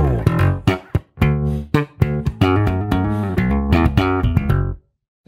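A melodic bass guitar riff played alone, steady notes with a few short gaps, ending in a brief silence.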